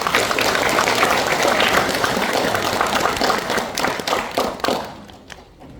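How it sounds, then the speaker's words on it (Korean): Loud, dense applause from a seminar audience welcoming the chairman of a veterans' association for his address, sustained for several seconds, then thinning into scattered claps before fading out. "뜨거운 박수로 맞이해 주십시오."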